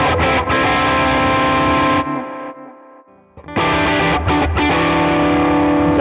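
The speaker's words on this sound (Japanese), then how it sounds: "ハムのリアとかにすると結構歪みがわかりやすいですね。" Crunchy overdriven electric guitar through a rear humbucker and a Tone King Imperial MKII amp plugin, playing sustained distorted chords that briefly drop to a ringing decay before loud strumming resumes.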